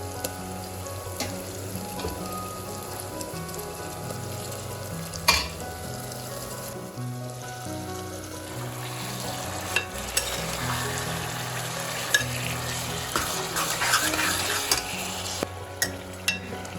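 Mutton pieces sizzle in ghee with fried tomatoes, close and steady, with a spoon stirring and knocking against the pot at irregular moments and some background music underneath.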